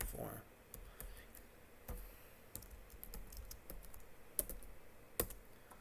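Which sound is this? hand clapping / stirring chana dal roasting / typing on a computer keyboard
typing on a computer keyboard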